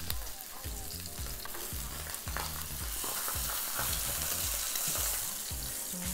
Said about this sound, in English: yeah, we want our salmon to be seared, but we don't wanna overcook it